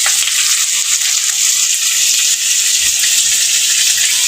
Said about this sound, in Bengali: পেঁয়াজের সাথে এই দুধ কুচুটা যে আছে সেটাকে আমি মিশিয়ে নেব, ভেজে নেবো এটাকে